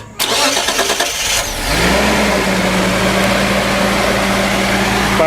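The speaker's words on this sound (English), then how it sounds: "I'll fire it up and let you hear this thing." A 1976 Datsun 280Z fitted with a new exhaust cranks briefly with the starter, catches and fires up, then settles into a loud, steady idle close by.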